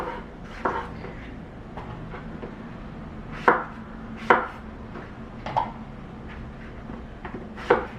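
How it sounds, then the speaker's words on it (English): A knife chops eggplant into uneven chunks on a board, landing about eight sharp, close knocks at irregular intervals over a soft background hum; nobody speaks. "So just try to cut it in uneven chunks, but chunks that have the same mass."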